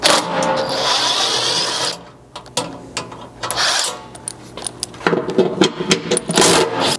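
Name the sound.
13mm socket removing bumper skid bolts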